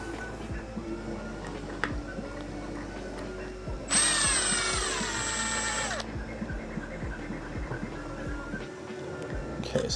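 A power drill driving a screw whines loudly in one sustained two-second burst, slowing near the end, set against a busy background of clicks and mechanical hum.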